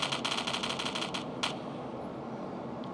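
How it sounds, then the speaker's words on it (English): A Stinger SMG fires in a video game: a rapid, fairly quiet burst of about a dozen shots, followed by two more isolated shots and then near silence. "Next up, we have Gunner's Stinger Smg"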